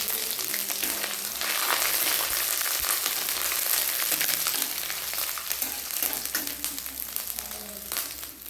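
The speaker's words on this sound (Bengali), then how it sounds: "এলাচ, লবঙ্গ, দারুচিনি খুব সুন্দর করে থেতো করে রেখেছি, আমি তেলের উপরে দিয়ে দিই" Crushed cardamom, cloves and cinnamon dropped into hot oil for a meat curry, a loud, dense, continuous sizzle close up, with faint stirring scrapes underneath.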